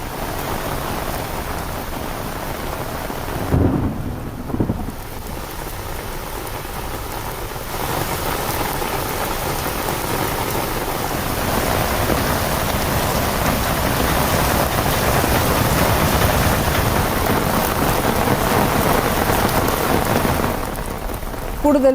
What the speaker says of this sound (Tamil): நாகை மாவட்டம் கீழ்வேலூர் சுற்றுவட்டார பகுதிகளில் பெய்து வரும் கோடை மழையால்